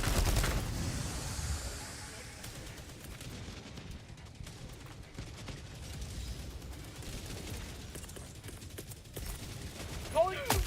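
Sentry turrets firing in Helldivers 2, steady bursts of rapid gunfire and mechanical impacts that run for several seconds at moderate loudness, with a player talking over them.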